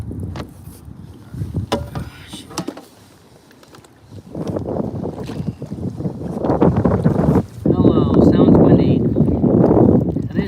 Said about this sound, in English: it's pretty darn windy out here today